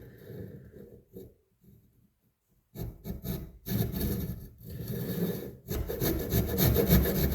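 A hand saw cutting wood for a camp axe handle, quiet handling at first, then rapid rhythmic rasping back-and-forth strokes, close and fairly loud, with a brief pause midway.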